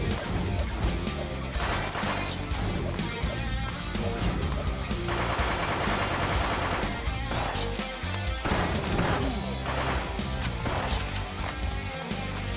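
Enemy shotgun fire during a 24-hour Nerf live stream game session: dense, continuous clattering bursts and crashing impacts fill the whole stretch, loud and busy throughout, with no speech.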